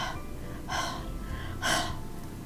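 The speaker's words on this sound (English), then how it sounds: "So I'm just gonna breathe on this again." Two short, forceful breaths puffed close onto a rubber stamp, each a breathy burst with a quiet pause between.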